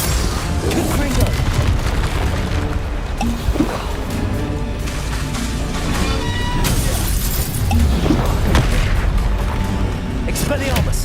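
Confringo fire spell blasts in Hogwarts Legacy, a dense run of booming, crackling impacts layered over game combat noise, with a speaking voice throughout.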